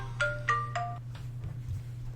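A short electronic phone ringtone plays a few bright, rising tonal beeps in quick succession, then stops, over a steady low background hum.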